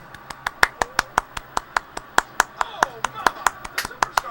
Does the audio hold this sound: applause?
yes